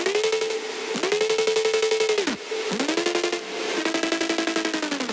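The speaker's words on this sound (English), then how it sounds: "and also this synth loop." A synth loop from a melodic drum and bass track plays alone, with bright, harmonically rich pulsing notes that repeat in a steady rhythmic pattern and glide between pitches at each phrase change, loud and upfront.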